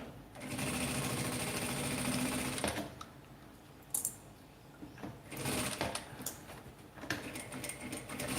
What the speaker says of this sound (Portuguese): Eu passo 2 vezes a costura,